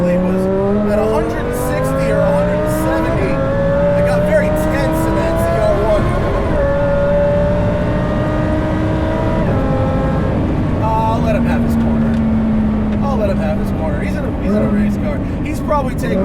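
An 870 HP supercharged Lamborghini Huracan Performante on track roars through the gears, engine pitch climbing and dropping with shifts and occasional tire squeal, loud and close with a driver talking over it.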